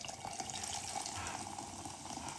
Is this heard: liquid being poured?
yes